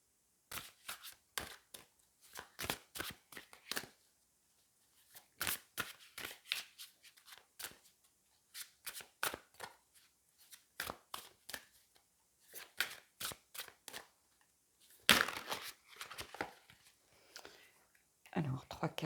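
Tarot cards are shuffled for a reading in repeated short bursts of riffling and slapping, close and crisp, separated by brief pauses, with quiet voices between some bursts.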